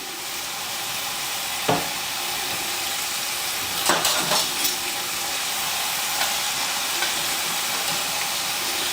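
Garlic frying in olive oil in a pan for a tomato thyme pasta with chicken: a steady close sizzle and hiss with a few brief clicks of stirring, no voices.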